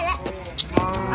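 A cow in the video game Minecraft lets out a short moo over steady game background sounds, with a few brief clicks around it.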